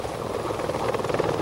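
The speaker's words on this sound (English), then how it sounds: "Trust Uri Geller to be arriving by helicopter." A helicopter arriving at an outdoor literary festival setting, its steady rotor thrum and engine roar continuous and fairly loud throughout, with no talking over it.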